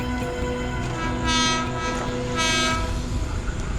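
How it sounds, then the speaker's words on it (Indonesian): A train rumbles past nearby in Bintaro, Indonesia, with a steady mechanical drone, its horn sounding in two bright blasts. "Saya kayaknya dengar suara kereta pemirsa."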